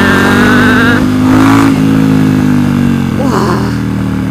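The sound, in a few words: Ducati XDiavel cruiser motorcycle engine revving while accelerating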